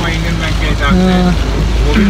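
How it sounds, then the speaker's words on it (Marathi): Heavy rain pours down on a road trip near Alibag, a dense steady wash of rainfall heard close, with some tonal background hum and a brief vehicle-like tone mixed in. "अजून पाऊस थांबलेला नाही,"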